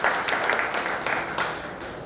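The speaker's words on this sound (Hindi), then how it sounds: "मैं चाहूँगा कि हम खुद अपने लिए एक जोरदार ताली इसके लिए।" Audience applause at a COVID-19 vaccination gathering in Udaipur, a steady, dense wash of clapping from a sizeable crowd that holds even and fairly close for about two seconds, with no voices above it.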